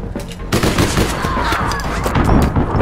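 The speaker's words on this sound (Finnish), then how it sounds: "takaa ammutaan" Gunfire in the video game All Points Bulletin, a loud, dense burst of shots running through the whole stretch, with faint talk beneath.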